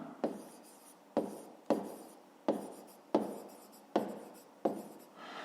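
Pen writing by hand on paper during a fifth-grade maths exercise: seven short scratchy strokes close by, each a sharp start fading quickly, in an uneven rhythm with brief pauses and no talking.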